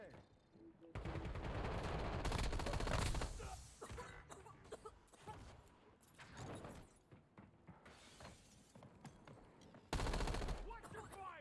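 Video game gunfire in a loud bursts-and-pauses pattern, with rapid automatic rattles, heavy long volleys and short gaps, dense and close throughout.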